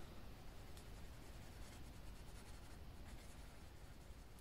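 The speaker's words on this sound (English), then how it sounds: "I'm just going to go over everything and just burnish it with this." A canary yellow colored pencil burnishes paper in small circles, a faint, steady scratchy rubbing close to the page that carries on without pause.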